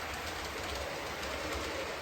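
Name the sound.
model train running around the loop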